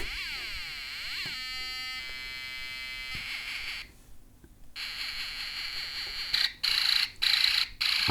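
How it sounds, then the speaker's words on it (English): An electronic sound effects board kit plays a string of synthetic tones: sweeping and stepped electronic pulses, then a brief drop, then bursts of harsh rapid-fire noise that stop and start like a toy machine gun over a constant hum. "some kind of machine gun sound"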